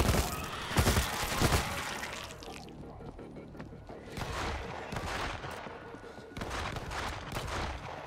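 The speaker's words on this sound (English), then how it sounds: "Sounds like those shots came from the bus." Bursts of video game gunfire, from Tokyo Has Fallen on PS5, crack through a busy, noisy scene, with sharp shots early on and scattered volleys later, loud and close amid general clatter.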